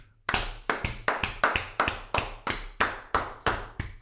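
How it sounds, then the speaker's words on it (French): Hands clap about a dozen times at a steady rhythm, with sharp, close, fairly loud claps standing alone against a quiet room. "J'applaudis ici"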